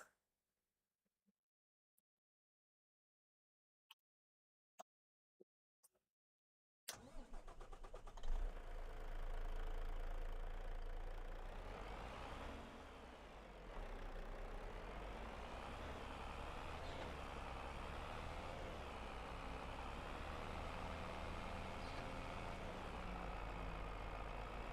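A truck in Farming Simulator 25 hauls two trailers, its engine droning steadily and loud after a few seconds of near silence broken by faint clicks, with a brief dip in level midway.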